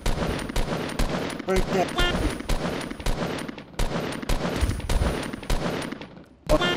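Gunfire in a multiplayer video game, rapid sharp shots in irregular bursts throughout, loud and close, with a player speaking briefly over the action.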